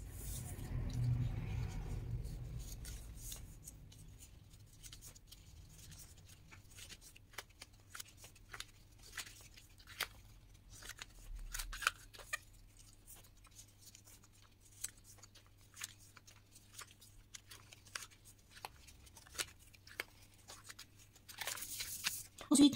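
A paper card for a scrapbook tunnel card has its folds creased, with a series of quiet, close scratchy rubs and crisp ticks scattered over a soft room hum, plus brief rustling at the start and end.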